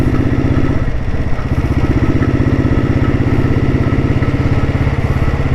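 A 1987 Royal Enfield Bullet idles with a full-core silencer exhaust, its single-cylinder thump beating in a steady, even rhythm, loud and close, with a mechanical clatter running underneath and no voices over it.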